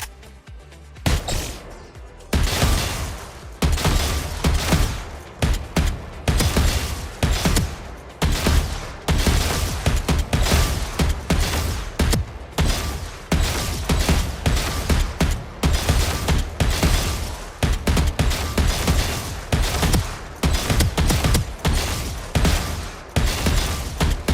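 Rapid repeated gunshots during shooting practice in the Valorant video game, a loud, steady string of punchy shots and short bursts from close range, continuing for about twenty seconds with no talk.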